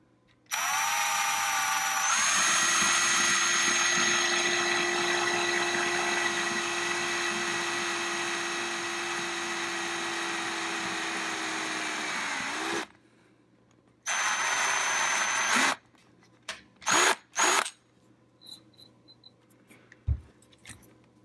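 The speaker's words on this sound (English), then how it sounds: "Right, I'm going to start with the 1/8" pilot hole and then drill that larger to 1/4" A power drill bores a 1/8-inch pilot hole while modifying a Blaupunkt Monterey SQR 23 radio, with a steady, loud whine running for about ten seconds, then a shorter second burst, then several brief spurts and small clicks.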